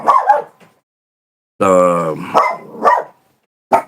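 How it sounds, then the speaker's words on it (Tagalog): Dogs bark in a few short, sharp bursts, fairly close, between brief snatches of a person talking. "yun na yung mga aso. Yun na yung aso."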